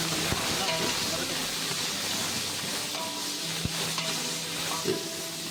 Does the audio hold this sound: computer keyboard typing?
no